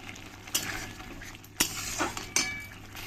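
Masala being stirred and fried in a pan for capsicum chicken kosha: a soft, low sizzle with a few sharp metallic clinks and scrapes of a spoon against the pan, close but quiet, with no talking.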